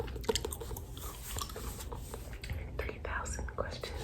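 Gum is chewed close to the mic with wet, squishy mouth clicks and smacks in an irregular rhythm, mixed with soft whispering throughout.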